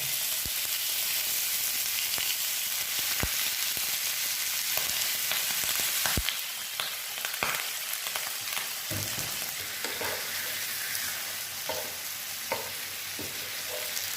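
Chicken sizzles loudly in hot oil in a pan. The dense frying hiss is punctuated by repeated sharp clicks and scrapes of stirring, with no voices.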